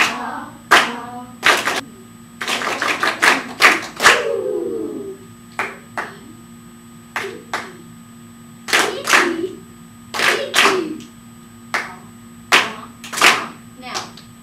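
Third-grade class claps short call-and-response rhythms, a run of sharp hand claps in small bursts with gaps between, close and clear in a classroom, with a steady hum beneath.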